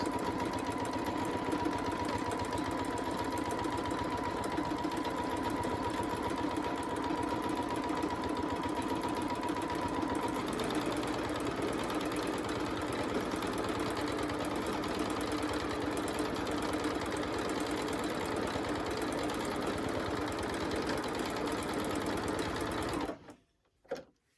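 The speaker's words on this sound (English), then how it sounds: "I'll put my needle down and we'll start again. So nicely doing little circles." Sewing machine running steadily in free-motion quilting, stitching small circles on a quilt; a continuous close mechanical whir holds for over twenty seconds before stopping abruptly.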